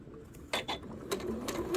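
A sewing machine joins quilt blocks for a patriotic quilt top in short mechanical bursts of whirring stitches, close and fairly quiet, lasting under two seconds.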